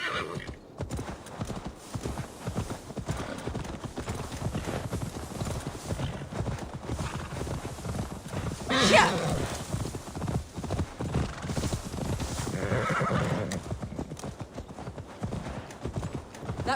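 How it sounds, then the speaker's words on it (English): Video game horse hooves clip-clop in a steady walking rhythm throughout, and the horse lets out a loud neigh partway through, with another softer whinny later, in Assassin's Creed Valhalla. "Now to deliver Magni his horse"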